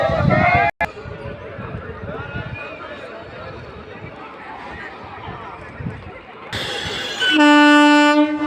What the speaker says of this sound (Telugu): బండి వస్తుంటే కోలాహలంగా అరుస్తున్నారు పబ్లిక్ అంతా